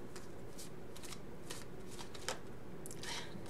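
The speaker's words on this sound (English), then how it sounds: "support card flipped up." Tarot cards handled and flipped up during a reading, giving papery shuffling and flicking sounds in close, quiet bursts across the clip with no one talking.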